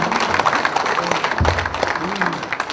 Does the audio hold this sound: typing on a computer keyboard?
no